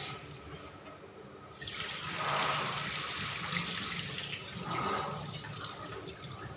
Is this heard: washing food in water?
yes